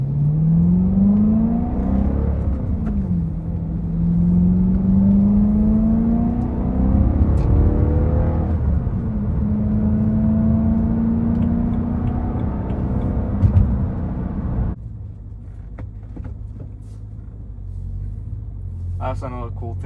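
A BMW E90 M3 engine drones loudly while driving, rising and falling in pitch through gear changes as the car accelerates, then drops to a lower rumble near the end.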